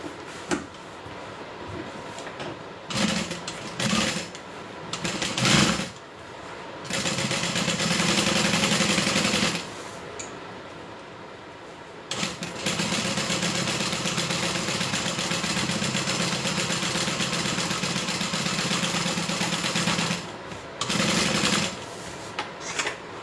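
A sewing machine runs a top stitch in close, steady bursts of rapid mechanical whirring, with short stop-start runs at first, then long continuous stretches separated by brief pauses.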